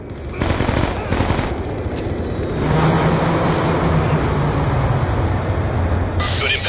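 Rapid cannon fire from an A-10 Warthog's guns in Black Ops 2 roars as a continuous loud, buzzing burst lasting several seconds, followed by a rumbling aftermath.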